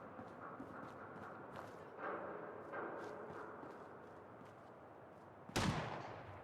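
A single sharp gunshot cracks out near the end of a scene in the video game Fallout: London, sudden and loud over a quiet, murky ambient background.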